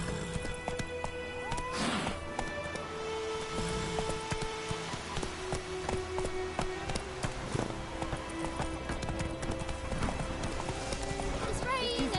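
Horse hooves clip-clop in a steady galloping rhythm in a PS4 video game, with a horse's whinny and some rain-like patter, while a person talks over the game.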